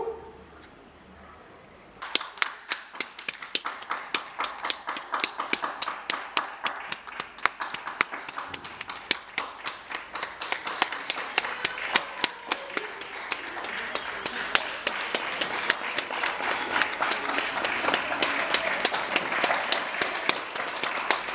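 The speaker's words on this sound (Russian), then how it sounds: "Смотрите, хлопает. Я тоже похлопаю." Neighbours clap from balconies in a quiet Spanish residential area during lockdown. A thin, crisp stream of hand claps starts abruptly and runs steadily for about twenty seconds, swelling slightly as more hands join. The clapping is moderately distant and carries a faint echo.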